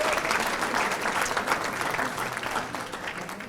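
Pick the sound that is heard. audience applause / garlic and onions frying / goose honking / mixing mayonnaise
audience applause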